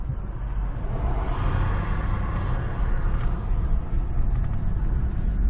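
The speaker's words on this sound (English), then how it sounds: "you're going to be watching me drive to the dump." A car drives along a road toward the dump on a dreary day, its steady low engine rumble and road noise filling the cabin continuously with no talking.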